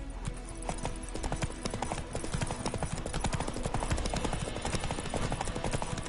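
Roach, a horse in a video game, trots with brisk, rhythmic hoof clip-clops that are clear and close, continuing steadily throughout.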